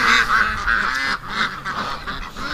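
Ducks quacking and honking close by, a busy overlapping chorus of nasal calls in repeated bursts.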